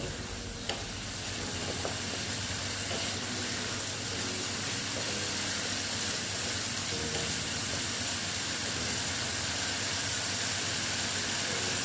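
Ridge gourd curry sautés in oil in a pan, a continuous hissing sizzle with occasional soft stirring and scraping sounds.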